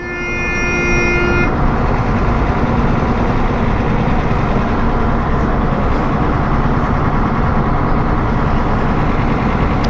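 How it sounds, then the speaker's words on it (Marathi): Dense road traffic in a jam roars steadily with heavy truck engines, and a multi-tone vehicle horn blares for the first second and a half over the continuous, loud rumble. "पण ट्रॅफिक जाम झालाय"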